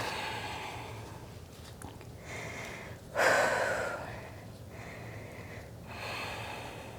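Breathing during a yoga handstand flow, with a loud, close, forceful exhale that fades slowly, followed by quieter rhythmic breaths.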